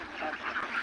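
Ducks quack nearby at a riverside duck farm, a short burst of nasal calls overlapping one another, with a voice faintly present underneath.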